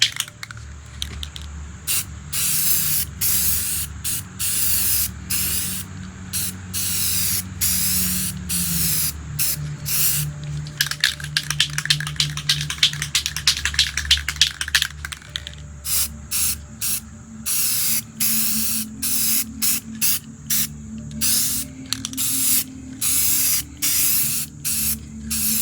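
Paint sprays from a can onto the nacelle of a 1979 AMT Star Trek Enterprise NCC-1701 refit model kit, in loud close hissing bursts: a long steady spray at first, then a run of short rhythmic pulses with brief pauses.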